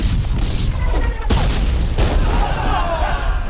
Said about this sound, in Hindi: जब तक किले पर मशाल ना दिखाई दे तब तक तोपें चलती रहनी चाहिए